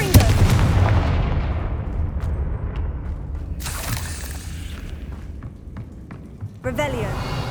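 A Confringo blasting spell in Hogwarts Legacy sets off a loud, booming explosion at the start that rumbles and decays over several seconds, followed by sharper cracks and a second burst near the end, with game music and voices underneath.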